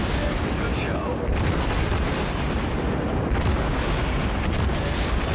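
Naval guns and explosions tear into a battleship in World of Warships, a dense, loud, continuous roar of booming gunfire and blasts with no pauses.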